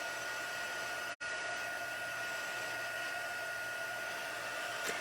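Heat tool blowing hot air to melt embossing powder on a card, a constant close whooshing roar that cuts off briefly for an instant, then resumes.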